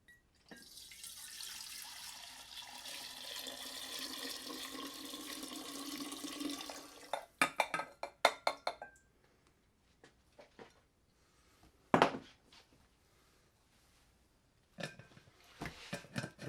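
Everclear grain alcohol is poured in a long, steady splashing stream into water in a kitchen container, followed by scattered clinks, taps and short liquid sloshes as the mixture is stirred and handled nearby.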